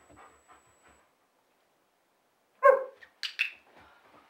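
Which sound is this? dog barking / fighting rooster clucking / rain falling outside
dog barking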